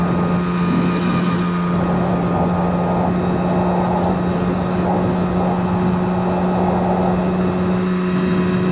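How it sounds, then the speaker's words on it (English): A 1979 Honda Express moped engine held at wide open throttle while riding at about 18 to 20 mph, a loud, steady, buzzing drone with a strong constant hum, close and unbroken throughout, no speech. "Wide open throttle here."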